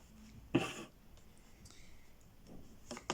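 Cards are drawn from a tarot-style deck, with a quick papery slide and snap followed by a few soft, faint card clicks in a quiet room.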